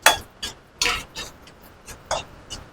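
Coriander seeds, cumin and dried chillies dry-roasting in a pan, a spoon stirring in several distinct scraping strokes with light rattling, close and alone.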